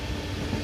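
The Jodhpur Superfast express runs at high speed between Vijayawada and Ongole, giving a steady, dense roar of train noise with faint rail rumble and no pause.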